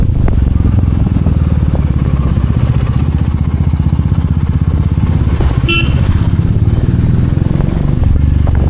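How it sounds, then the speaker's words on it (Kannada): A Royal Enfield Meteor 350 cruiser with an aftermarket exhaust idles loud and close, a steady deep thumping beat that stays even throughout, with a faint horn-like tone briefly poking through. "ಇದರೊಳಗೆ ಎಕ್ಸಾಸ್ಟ್ ಹಾಕ್ಯಾರ ಈ ಗಾಡಿ ಓನರ್ ಅವರು. ಎಷ್ಟು ಸ್ಮೂತ್ ಇತ್ತಂದ್ರೆ ಅಷ್ಟು ಚಲೋ ಸೌಂಡ್ ಕೇಳೋದೈತಿ"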